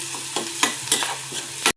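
Chillies and onion fry in a pan for a home-style egg curry, with a steady sizzle broken by four or five louder scraping stirs of a spoon, close and alone, ending abruptly.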